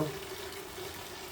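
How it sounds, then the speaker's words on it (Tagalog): Running water pours steadily into a boiling pot of glutinous rice, a continuous splashing rush with a faint bubbling undertone, close by and fairly quiet. "Lagyan natin ng konting tubig"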